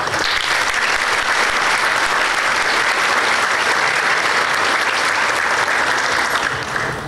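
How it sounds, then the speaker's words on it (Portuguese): A large audience at the Fórum da Liberdade 2018 applauds continuously, a dense, loud, even wash of clapping that holds steady throughout with no voices over it. "Eu peço a gentileza, se puderem se juntar comigo, um aplauso a eles todos."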